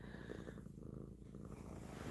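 A house cat purrs softly and close, a steady low rumbling purr that continues alone without any talking through the late-night quiet.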